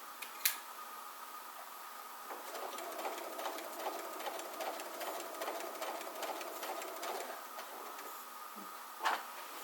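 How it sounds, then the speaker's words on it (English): A sewing machine with a walking foot stitches a quilt, its needle running in a fast even mechanical chatter from a few seconds in, quiet and close, framed by a couple of soft clicks before and after. "I'm going to take a couple of stitches before I remove my walking foot"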